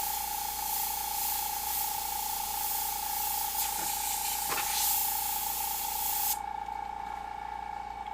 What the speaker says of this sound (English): my brush isn't spraying as good